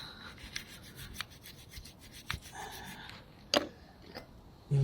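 Brake parts from a VFR 800 motorcycle's rear brake are scrubbed with a wire brush, giving quiet scratchy strokes in irregular bursts with a few sharper clicks and knocks, close and without talking.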